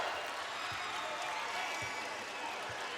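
A basketball arena crowd at an NIT game between Harvard and NC State roars and cheers on its feet, a steady wash of distant crowd noise with faint claps throughout.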